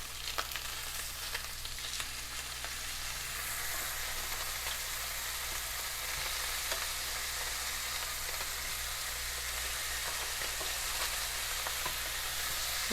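Ahi tuna steaks sear in a hot pan with a steady, even sizzle that stays constant throughout, close and moderately quiet, with no voices over it.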